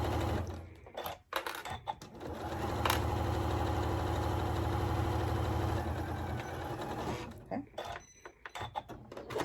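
A sewing machine running a short back stitch on a fabric surgical face mask, a close, steady mechanical whir sustained for several seconds between quieter clicks and handling noises at either end.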